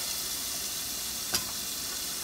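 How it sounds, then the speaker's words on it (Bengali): Potatoes fry in a covered pan for a salmon fish curry, giving a steady, even sizzle that runs the whole time, with one brief louder tick of a utensil partway through. "এখন আলুটা ভালো করে ভাজা হোক"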